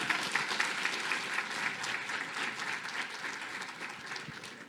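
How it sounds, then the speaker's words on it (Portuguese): Church congregation applauding, a dense, continuous wash of many hands clapping that holds steady and slowly tapers, heard from a moderate distance with no talk. "hoje uma salva de palmas ao Jesus"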